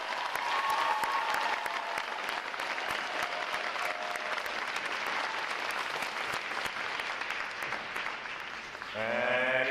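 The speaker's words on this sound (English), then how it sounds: "How about a round of applause for our outstanding performance today?" Sustained audience applause fills the hall at a U.S. Navy recruit boot camp graduation, dense steady clapping from a large crowd for nearly ten seconds before a brief musical or voiced tone enters at the end.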